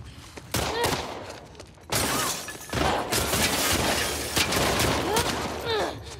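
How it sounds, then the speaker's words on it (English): Repeated gunfire from enemies in The Last of Us Part II, with loud bursts of shots and sharp cracks recurring across several seconds and a player's voice talking over the fighting. "Not while they're shooting me, though."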